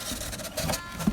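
A Brother printer runs close by, giving off a mechanical whirring with uneven clicks and knocks, and a sharper thump near the end.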